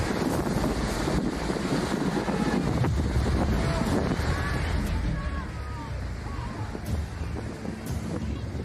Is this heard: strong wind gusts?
yes